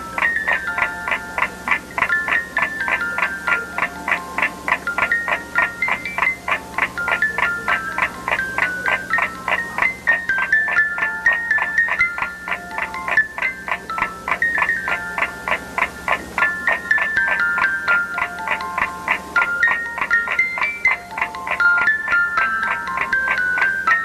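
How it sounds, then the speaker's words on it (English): Music box melody in a horror game house remake, a tinkling high tune of plucked metallic notes repeating in a steady looping pattern over a faint low hum, clear and continuous with no talk. "I hear a music box."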